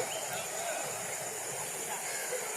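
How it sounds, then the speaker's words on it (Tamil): A river runs full near Veerapandi Gowmariyamman temple: a steady, close, broadband rush of flowing water fills the scene, with faint voices mixed into the background. "ஆற்றுல நிறையா தண்ணி வருது இப்போது"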